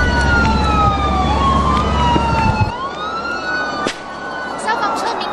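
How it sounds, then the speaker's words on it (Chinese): Fire engine sirens wailing loud and near as they approach a minibus burning beside a highway, with rising and falling tones sweeping over a steady traffic rumble. "消防车鸣笛声不断逼近"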